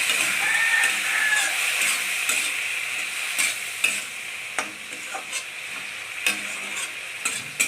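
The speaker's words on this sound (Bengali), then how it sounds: "এবার এর মধ্যে একটু জল দিয়ে মশলা কটা ভেজে নেব।" Spices with chilli powder and chopped tomato frying in a little water in a pan, a steady close sizzle broken by a run of sharp scrapes and clinks as they are stirred.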